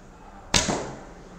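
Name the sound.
lightweight 340 grain arrow shot from Akos Tarim bow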